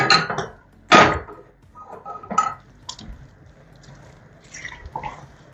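Tempered mustard seeds are stirred into dried tapioca and chickpeas in a pot, making a few wet, squelchy knocks and scrapes of a spoon spaced by quiet gaps, close by and with no talk.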